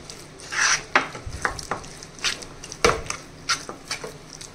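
Ridge gourd chutney mixed in a bowl, with irregular clinks and scrapes of a spoon against the bowl, close and moderately loud, with no talk.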